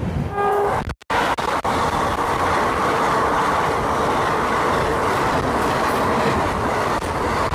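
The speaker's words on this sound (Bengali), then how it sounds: "নিচে আমাদের ট্রেন চলে যাচ্ছে" The Sairang Express, running from Kolkata to Sairang, rolls steadily along in a loud, continuous rumble heard from aboard, with a brief harmonic horn note near the start and a momentary dropout around one second.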